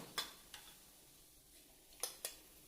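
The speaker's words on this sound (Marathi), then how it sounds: "हे बघा, जिरे मोहरी तडतडायला लागली." A few sharp pops and crackles of mustard and cumin seeds spluttering in hot oil, scattered over a quiet background with no talking.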